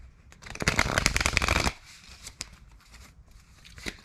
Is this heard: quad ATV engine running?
no